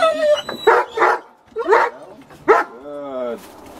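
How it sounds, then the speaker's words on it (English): Several dogs bark loudly and close by at feeding time, yips and a drawn-out howl-like whine mixed in, with a person talking to them between the barks. "Beautiful, beautiful dogs."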